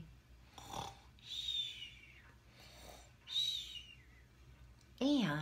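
A voice imitates snoring for a bedtime story about a lion, giving a few drawn-out breathy snores with whistling tones, separated by short pauses and ending in a louder, wavering snort.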